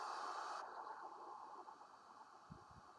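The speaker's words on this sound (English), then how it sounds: "we'll start our white noise" A steady, faint hiss of broadband white noise test signal plays continuously for an audio frequency response measurement of a sound-powered phone element, brighter at first, then dulling slightly, with a couple of low thumps near the end.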